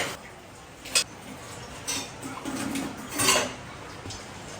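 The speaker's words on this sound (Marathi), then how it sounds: "जोपर्यंत तेल तापते तोपर्यंत मी पटकन भांडी घासून घेते." Dirty pots, pans and dishes are scrubbed and washed by hand, with a few short clattering bursts of metal and crockery spaced over a quiet kitchen background.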